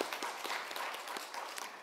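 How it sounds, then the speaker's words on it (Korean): A congregation at a Korean Sunday worship service claps together in applause, a fairly quiet, steady patter of many hands with crisp individual claps. "크게 하나님 앞에 영광의 박수를 돌리겠습니다"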